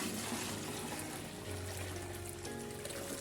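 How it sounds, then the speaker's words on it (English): Clean fetched water pours steadily into a container on a chicken farm, a continuous close splashing trickle without any voices. "the next step is now to pour in the other clean water which we had earlier fetched from our water source from outside"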